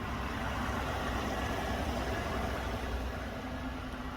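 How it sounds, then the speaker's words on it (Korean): A Hyundai EQ900 all-wheel-drive sedan with about 80,000 km idles steadily, a low, even rumble with a faint hum and no changes in pace. "자, 엔진 소리 들려드리겠습니다."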